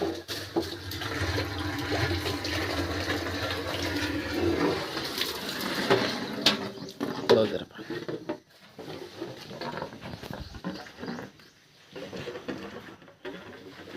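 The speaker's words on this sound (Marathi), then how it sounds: "पाणी आलंय" Tap water runs loudly into a container with a steady, close, broadband gush for about seven seconds, then eases into quieter splashing and clatter, with faint voices in the background.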